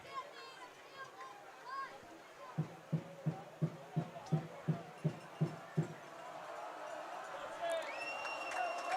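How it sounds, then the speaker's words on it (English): At a varsity high school football game between Flint Hill and St. Christopher's, the home crowd pounds out about ten evenly spaced rhythmic beats, then builds into a louder, rising roar of cheering with high whistles near the end. "Saints crowd really getting loud here"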